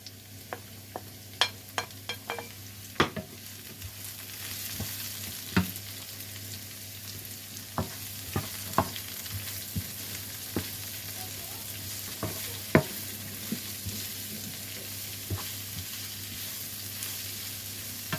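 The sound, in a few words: leeks sautéing and being stirred in a pan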